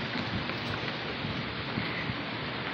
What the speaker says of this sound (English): Look at that, it's pouring down.